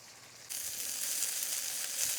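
Shallots, green chillies and tomatoes hit hot oil and a loud, steady sizzle of frying starts abruptly, then stays close and continuous in a Sri Lankan Tamil village kitchen.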